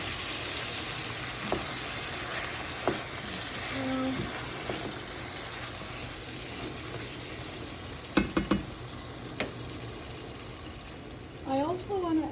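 Tomato and chili frying with spices in a pan for a chicken curry paste, a steady soft sizzle with occasional stirring clicks and scrapes, some brief water-like sounds, no talking.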